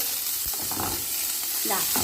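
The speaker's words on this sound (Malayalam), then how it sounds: "കടുക് പൊട്ടിക്കഴിഞ്ഞപ്പോൾ അതേ സവോളയും പച്ചമുളകും വേപ്പിൻ്റെ എല്ലാം ഇട്ട്" Sliced onion, green chili and curry leaves frying in coconut oil after mustard seeds have popped; a loud, continuous close sizzle with crackling bursts and spatula stirring throughout.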